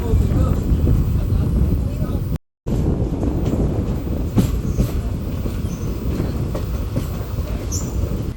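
A passenger train pulling out of a station on the Madurai to Rameshwaram line, rolling with steady clickety-clack and occasional wheel squeal over a constant rumble, with a brief dropout partway through.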